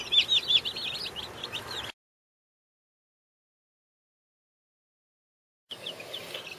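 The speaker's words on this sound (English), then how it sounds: "We got our chickens in here" Young Cornish Cross meat chickens newly settled into their pen cluck and peep softly in a quiet room; the chatter stops for several seconds of silence, then resumes.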